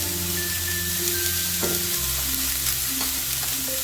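Oats khichdi being stirred and fried in a pan as turmeric goes in, with a dense continuous sizzle and scraping close by, and steady tonal hum underneath.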